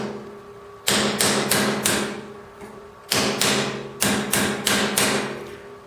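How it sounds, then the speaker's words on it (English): Hammer blows flattening copper rose petals, struck in quick bursts of three to five sharp metallic strikes separated by short pauses, loud and close with ringing decay and no talk. "The next step is to flatten them all out."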